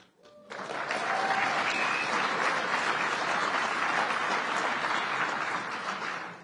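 Sustained applause from a large audience at a national mayors' conference, rising quickly after a brief quiet start and holding steady and loud throughout.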